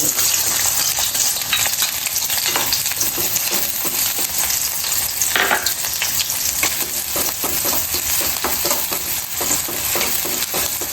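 Onions frying in hot oil for a fish curry, a steady loud sizzle and crackle with occasional stirring scrapes throughout, no talking.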